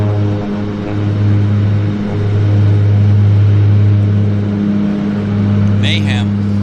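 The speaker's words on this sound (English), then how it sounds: "Twin Otter harmonics." Twin Otter floatplane at Vancouver Harbour floatbase, steady droning engine with strong sustained low harmonics, loud and continuous, with people talking nearby.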